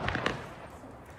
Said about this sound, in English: Explosions have been heard near the U.S. Embassy in the Iraqi capital of Baghdad.